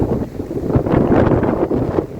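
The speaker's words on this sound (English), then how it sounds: "It's very windy though." Strong gusts of wind buffet the microphone, producing a loud, rumbling roar that surges and eases without pause.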